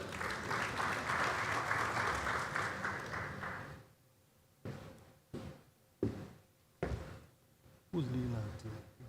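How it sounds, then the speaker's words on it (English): Clapping from an audience at an aviation week gathering welcomes the Rwandan and Nigerian teams, dense and sustained for about four seconds, then breaks off into a handful of isolated knocks and thuds. "A warm round of applause for them"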